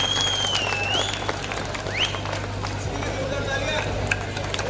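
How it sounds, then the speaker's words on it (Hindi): Loud clapping at a charity talent show, steady and close, with a constant low hum and bits of crowd chatter underneath. "एक बार जोरदार तालियां हो जाए।"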